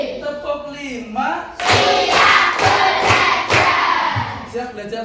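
Children in a primary school classroom clap in rhythmic patterns as a teacher-led ice-breaker, sharp loud claps in short bursts with group voices and chanting between them.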